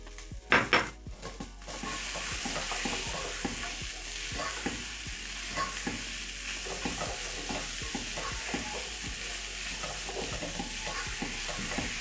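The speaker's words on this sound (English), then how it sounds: "Stir in until everything is combined and it's smelling so good" Minced beef with carrots being stirred in a pot, a quick cluster of spoon knocks at the start, then steady scraping strokes over a constant close sizzle.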